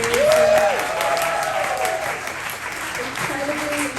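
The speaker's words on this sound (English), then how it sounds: "And one more round of applause for Neil Ruiz." Steady applause from an audience at an Asian Pacific filmmakers' anniversary event fills the clip, loudest at the start and fading slightly, with a voice speaking briefly over it.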